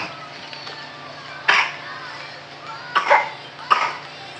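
Three sharp coughs at intervals, close and loud, the last two near each other, over quiet background.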